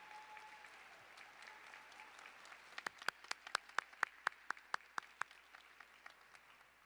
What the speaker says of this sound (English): Let's give a round of applause to James.